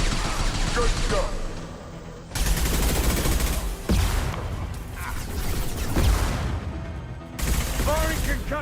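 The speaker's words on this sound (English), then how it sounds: "Firing concussive shot." Rapid bursts of gunfire and concussive blasts from combat in the video game Mass Effect Legendary Edition, loud and dense, with repeated volleys and booms layered under game voices.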